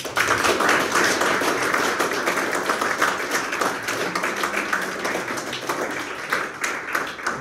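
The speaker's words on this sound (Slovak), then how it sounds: "Zatleskajte Pánovi." A church congregation claps loudly and steadily for several seconds, dense overlapping claps filling the room with sustained applause and no speech on top.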